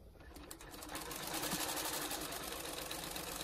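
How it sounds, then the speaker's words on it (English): A sewing machine stitches slowly around the face piece of a small bird made from scrap fabric, giving a continuous, steady mechanical whir that builds slightly and runs alone without speech. "sew around to the middle of the face piece. So nice and slow."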